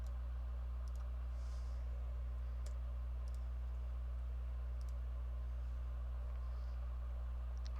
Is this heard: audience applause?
no